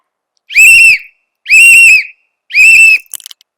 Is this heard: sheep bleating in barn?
no